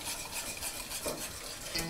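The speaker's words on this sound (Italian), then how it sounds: "Mescolo finché non si addensa." A spoon stirs flour and milk cream in a pot as it thickens, producing a soft continuous scraping and gentle bubbling hiss at low volume with no talking.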